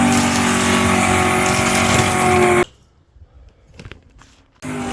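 Race cars including a Silverado truck and a custom Auto roar loudly for about two and a half seconds, then cut away to near silence with faint bumps before engine noise returns at the end.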